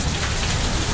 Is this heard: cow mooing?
no